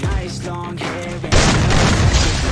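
A loud gunshot or blast in the mobile shooter Free Fire, cutting in sharply after a moment of game sound and ringing out as a sustained, noisy burst.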